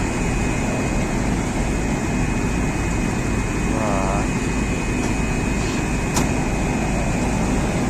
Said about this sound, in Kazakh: екінші камазымызды оталдырдық